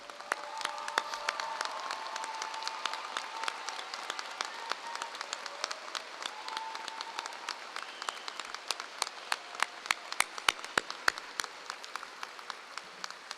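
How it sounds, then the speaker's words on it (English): A high school graduation audience stands and applauds its retirees, dense steady clapping from a large crowd that carries on for the whole stretch, slowly thinning toward sparser, sharper claps near the end. "would you please rise and applaud our wonderful retirees on a job well done"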